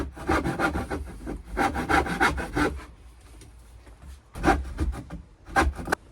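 A hand saw cuts back and forth through a piece of scrap wood, loud rasping strokes in close, uneven bursts with a brief pause before a final flurry of strokes.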